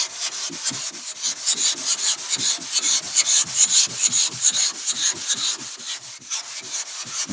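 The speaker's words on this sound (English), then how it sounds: "That right there is a little low, so I'm going to sand right here a little bit more." Hand block sanding 2K primer on a low spot of a panel makes quick, rhythmic back-and-forth rubbing strokes, loud and close, with no talking.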